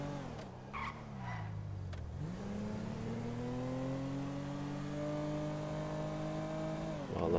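A car driving in Grand Theft Auto V, its engine droning steadily with rising and falling revs and a brief tire squeal, loud and continuous with no talk over it.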